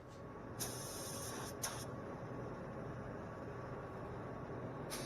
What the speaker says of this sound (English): So we're starting the first coat, spraying at 26 psi.